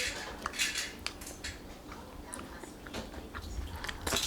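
Close, crisp crunching and clicking from someone biting into and chewing crunchy keto chicken-crust pizza, with light clinks of cutlery in a quiet room.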